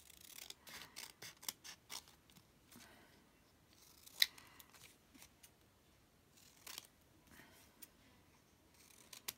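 Scissors snip paper ephemera in a quick series of crisp, close cuts with short quiet gaps between, faint overall with no talking.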